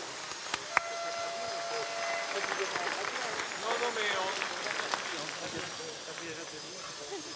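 Audience applause for the judges at the 2013 Coupe du Monde de la Pâtisserie pastry competition: a steady, dense wash of clapping fills the hall throughout, with voices and crowd chatter mixed in.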